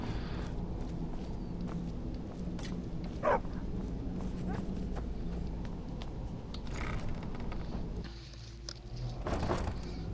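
A dog barks and whimpers in a video game with short yips and whines over a steady game background, while someone talks intermittently.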